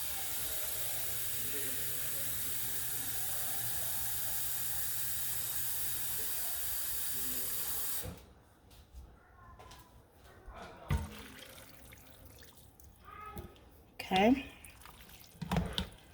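A cooking pot fills from a kitchen tap for a homemade vegetable beef soup, a steady loud hiss of running water for about eight seconds that then shuts off, leaving quiet kitchen handling sounds and a brief spoken word.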